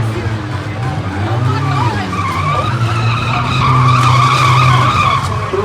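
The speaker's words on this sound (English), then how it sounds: "Three cars still rolling, trying to win the Omni Source Demolition Derby here tonight at the Madhouse." Cars in a night demolition derby at Bowman Gray Stadium rev and skid, with loud engine drone and tire scrubbing rising steadily under a commentator talking over the action.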